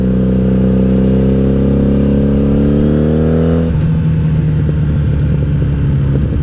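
1997 Honda Magna VF750C V4 motorcycle with Vance and Hines exhaust pipes, its engine revving up through a rising pitch, then dropping after a gear change into a loud, steady rumble, heard up close.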